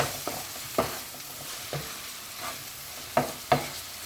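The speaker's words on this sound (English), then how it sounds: "Just stir it in." Jamaican black seasoning stirred into a pot, a spoon giving several distinct scraping knocks at irregular intervals over a faint continuous sizzle, close and fairly quiet, with no talking.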